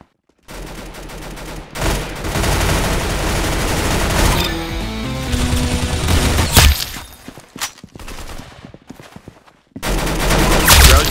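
Gunfire in the Roblox game Arsenal, rapid bursts of shots and fusillades that come loud and dense, then break into scattered single cracks and short pauses before another burst at the end.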